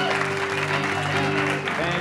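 A magic show audience at the Chicago Magic Lounge breaks into a short burst of clapping, dense and steady, with a voice talking over it.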